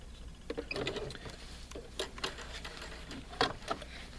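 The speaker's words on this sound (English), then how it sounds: "this machine also has an automatic tie-off. So when I'm done, I hit this button and it automatically will finish my seam for me" Pfaff sewing machine running its automatic tie-off to finish a seam, faint short bursts of mechanical ticking and whirring with clicks between, quiet and close, no talking.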